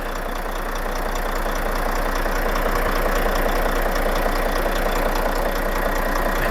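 A truck engine idles in an even, continuous rumbling drone that stays close and steady for the whole stretch, with no speech over it.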